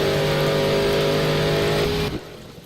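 A Mustang GT race car in a video game roars at sustained high revs from outside, loud and steady, then cuts off abruptly near the end, leaving a quieter tail.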